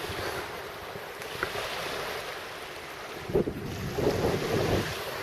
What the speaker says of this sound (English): Even though it has waves, it's just the wind, it is a lake.